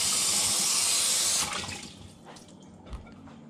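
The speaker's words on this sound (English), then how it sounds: "Okay, so I'm gonna rinse this off," A running kitchen tap pours water over a plate being rinsed, a strong steady splashing that stops abruptly, leaving faint drips and handling clatter.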